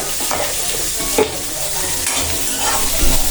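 Onions fry loudly in a hot pan, a dense close sizzle punctuated by scraping stirs of a spoon against the metal.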